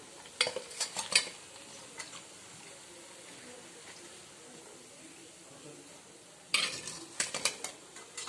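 Golden fried snacks are lifted out of a pan of hot oil with a metal utensil. Clustered scrapes and clinks against the pan come early and again near the end, over a faint hiss and occasional speech.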